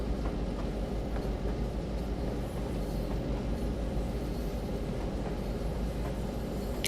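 A miniature park railway train in the Train Sim World 6 simulator rolls steadily along, giving a continuous loud rumble with faint rhythmic clicks from the wheels on the track.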